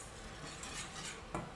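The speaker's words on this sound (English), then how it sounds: "Now we cook the roux" Quiet scraping and soft clinks of a utensil stirring a flour roux cooking in a pan over a faint low sizzle, with a slightly louder scrape near the end.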